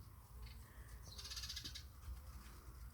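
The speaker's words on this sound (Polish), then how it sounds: "Ptaszki." Crows cawing outdoors in a garden with watermelon plants, several harsh calls in a short burst over steady low background noise.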